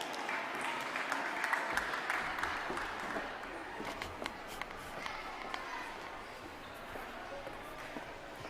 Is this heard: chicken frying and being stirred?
no